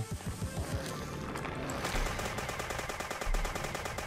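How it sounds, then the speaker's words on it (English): Rapid gunfire in the video game Dead Bits, a fast run of close, loud bursts that turns into a dense, steady rattle with no talk. "One of those ones you have to keep running around in a circle shooting."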